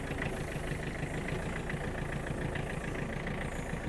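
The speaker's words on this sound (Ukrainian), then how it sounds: "поки двигун прогрівається" A Mitsubishi MT-285 mini tractor engine idles steadily while warming up, a constant close mechanical drone with an even fine rattle throughout and no one speaking.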